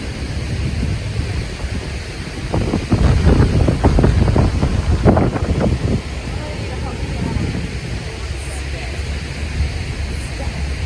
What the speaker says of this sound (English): The water was being blown with the wind.